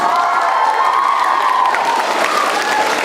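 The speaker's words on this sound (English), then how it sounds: "Give a round of applause for Mr." Loud audience applause and cheering at an elementary school spring concert, a continuous wall of clapping mixed with children's shouts and whoops filling the whole stretch.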